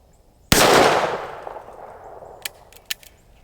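A single loud, sharp shot from a Taurus 856 .38 Special revolver with a 3-inch barrel, booming close by and ringing out over a couple of seconds, followed by a few faint clicks.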